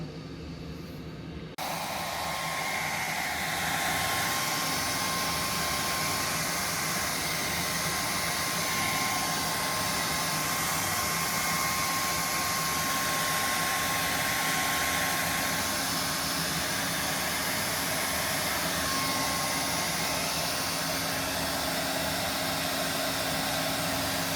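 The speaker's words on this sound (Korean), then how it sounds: "드라이기로 말립니다." A hair dryer blows steadily on freshly brushed oil-based surfacer paint, a loud constant whooshing hum that starts abruptly after a brief quiet moment and runs unbroken, with no talking.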